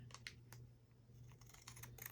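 Scissors snipping open a paper restaurant utensil bag, a series of quick close crisp cuts in irregular bursts, the last several clustered together, with no talking.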